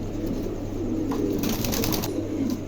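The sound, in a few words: pigeons cooing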